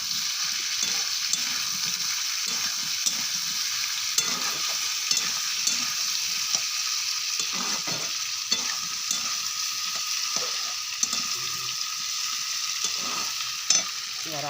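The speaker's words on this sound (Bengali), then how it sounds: "টমেটোগুলো দিয়ে দিচ্ছি, একটু ভেজে নিই" Tomatoes frying in oil with onion and spices in a pan, a continuous close sizzle broken by regular clacks and scrapes of a spoon stirring, with no talking.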